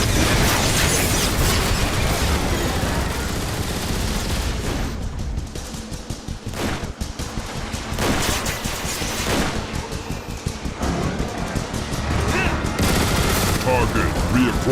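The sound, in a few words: gunfire and explosions in video game Transformers: War for Cybertron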